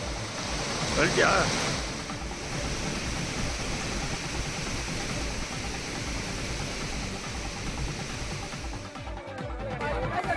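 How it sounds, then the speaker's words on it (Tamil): Flooded Hogenakkal waterfall after heavy flooding, with the walkway and main falls submerged, giving off a loud, steady, continuous roar of rushing water for the whole stretch. "கடும் வெள்ளப்பெருக்கால் ஒகேனக்கல் அருவிக்கு செல்லும் நடைபாதை, பிரதான அருவிகள் நீரில் மூழ்கியுள்ளன"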